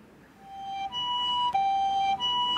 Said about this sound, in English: I can hear an ambulance.